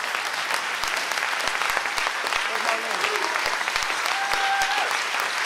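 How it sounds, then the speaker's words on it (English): Gala audience giving a round of applause: loud, dense clapping from a large crowd that keeps going steadily, with voices and cheers mixed into it. "Give him a round of applause"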